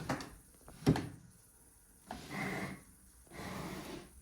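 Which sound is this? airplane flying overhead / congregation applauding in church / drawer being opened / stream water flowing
drawer being opened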